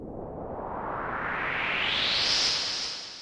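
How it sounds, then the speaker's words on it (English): A synthesized riser sound effect swells steadily in a rising noisy sweep over about three seconds, brightening toward a peak before trailing off into delay and reverb tails, heard alone without any voices. "but it's a riser."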